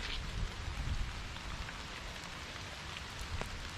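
Steady rain falls outdoors in Texas, a constant close hiss of drops striking the ground with a low rumble underneath, continuing evenly without any voices.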